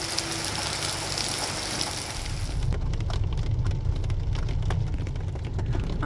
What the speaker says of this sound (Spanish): sigue lloviendo, está tremendo